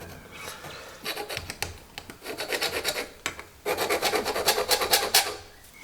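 Hardened, pointed vernier caliper jaws scribing a line along a metal edge during fabrication of a vehicle rotisserie, making rapid repeated scratchy rasping strokes in bursts, close up, with no talking.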